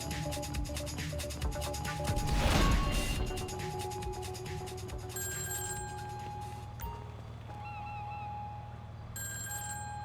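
A telephone rings during a GTA Online mission, a repeating electronic ring over steady game background noise and engine-like hum, with a louder swell of activity partway through and no talk.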